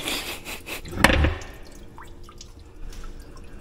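Water drips and splashes from a removed car water pump, a short burst of dripping and trickling near the start, then quieter scattered drops.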